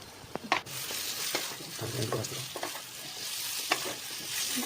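Spices and pre-fried onions for veg biryani sizzle steadily in a pan, with a few sharp clinks of a stirring spoon scattered through the frying noise.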